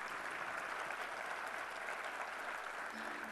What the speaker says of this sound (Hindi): तालियां हो जाए तो मजा आ जाए